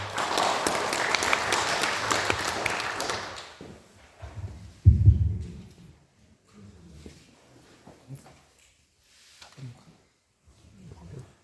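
Applause at a redevelopment briefing meeting rises loud and dense for about three seconds, then fades into scattered claps, thumps and shuffling room noise.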